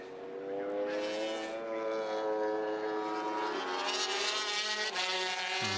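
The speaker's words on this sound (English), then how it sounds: "From the Kanemoto Honda, isn't it? Yeah, that 500cc V4." A Honda 500cc V4 racing motorcycle, run by the Kanemoto team on Bridgestone tyres, screams loudly and close at high revs throughout, its sustained whine rising and dipping with brief gear-change breaks before the pitch drops sharply at the end.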